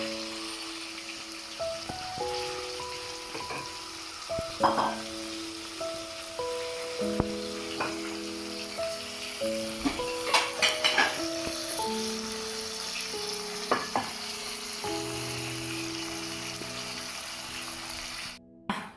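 Butterfly larvae fry in ordinary cooking oil, giving a steady quiet sizzle with scattered pops and crackles throughout, while faint tonal background sounds play underneath.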